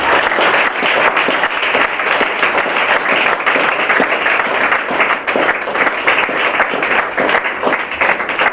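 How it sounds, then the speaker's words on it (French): A church congregation applauds for the Lord in a loud, sustained, even wash of clapping from many hands that fills the whole stretch without letting up. "Est-ce que tu peux encore acclamer pour le Seigneur?"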